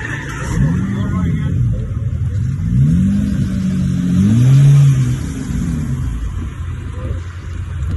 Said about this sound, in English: We have a lot of drifts out here.